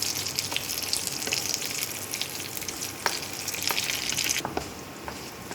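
Whole garam masala and bay leaves frying in hot oil for a chicken aloo kadai, a steady close crackling sizzle with scattered sharp pops throughout, no voices.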